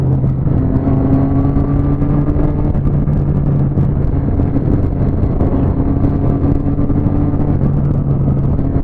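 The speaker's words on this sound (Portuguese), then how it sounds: "Tem moto pra caramba aí, velho." Long convoy of motorcycles in a police-organized ride near Curitiba, a continuous loud engine drone with overlapping revs and no break as the bikes stream past close by.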